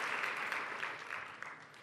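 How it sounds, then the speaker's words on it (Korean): An audience in a seminary chapel claps in a soft, steady wash of many hands, fairly distant and quiet, with no voices over it. "이렇게 박수를 열심히 쳐주시니까 너무 좋습니다"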